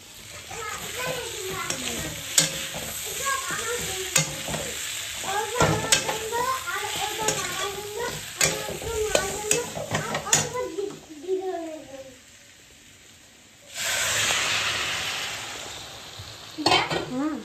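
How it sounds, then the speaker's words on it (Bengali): Jackfruit stir-fried with spices in a home kitchen during puja preparations: repeated scraping and stirring strokes over a steady sizzle, with adults and children talking nearby throughout. "ভালো করে মশলার সাথে কষাবো।"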